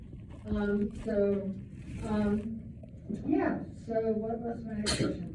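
A single muffled sneeze in a school classroom, picked up from inside a book bag, short and partly buried under ongoing conversation between students and a teacher.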